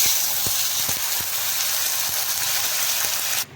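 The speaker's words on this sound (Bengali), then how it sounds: "এখন আমি এর মধ্যে ছেড়ে দেব বেটে রাখা মশলা।" Ground spice paste hitting hot oil tempered with whole cumin and bay leaves for an egg and potato curry, giving a dense, even sizzle up close with small crackling pops, cutting off abruptly at the end.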